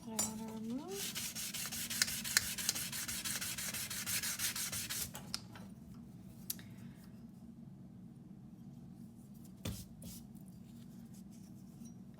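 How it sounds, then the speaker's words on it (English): Steady back-and-forth rasping of hand sanding on a filed metal piece for several seconds, close and quiet, then it stops, leaving a few faint knocks. "So sanding comes after filing."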